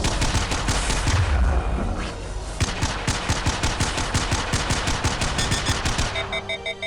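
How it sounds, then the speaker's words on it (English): Assault rifle fire in the Mass Effect video game, with sustained rapid bursts of sharp shots, loud and close, mixed with other combat blasts. "Am I close enough to hit any of you with this assault rifle?"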